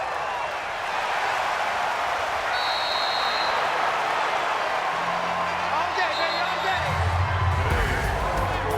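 Home crowd applauding in the Madden 20 football video game, a steady wash of cheering and clapping running under continuous commentator talk.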